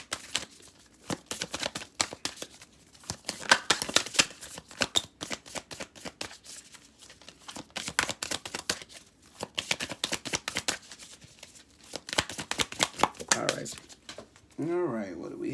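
Cards from a Work Your Light Oracle deck shuffled by hand in quick, crisp riffling flutters that come in dense bursts with brief pauses, close to the mic, ending in a short burst of voice.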